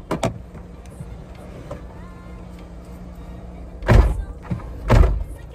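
A home garage door closing: a low motor hum runs through, with two heavy thuds near the end, close and fairly loud.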